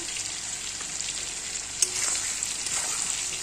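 Potatoes and onions with salt and turmeric sizzle steadily in hot oil, a constant close-up frying hiss with one brief clink of a utensil midway and no talking.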